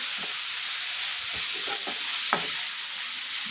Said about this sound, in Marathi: आता आपण टाकणार आहोत बारीक चॉप करून घेतलेली पत्ताकोबी तिला छान परतून घ्यायचं आहे